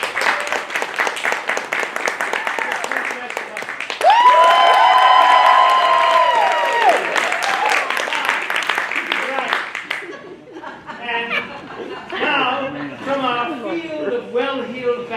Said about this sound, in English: pray, vote with your applause again